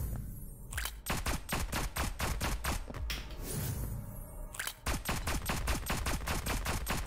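Rapid-fire gunshots in the video game Neon Abyss, a dense, steady stream of sharp, close shots running almost continuously, with a brief lull partway through before the rapid firing resumes.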